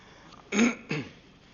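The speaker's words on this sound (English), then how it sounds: "It's a clearing of the throat, not a cough." Someone clears their throat close up, two quick rough rasps in a quiet setting.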